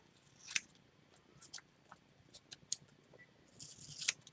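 Scissors snip through a strip of paper for a collage, a series of crisp, close metallic cuts at an uneven pace, with a quick cluster of snips near the end.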